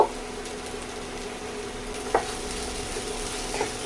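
Boiled chickpeas with black pepper fry in hot oil with a soft, even sizzle, close by, broken by a couple of sharp utensil clinks against the pan.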